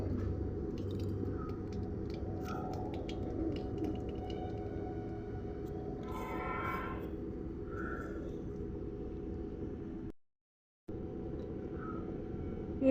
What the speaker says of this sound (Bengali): তেল গরম হয়ে গেছে, এবার কালো জিরা দিলাম।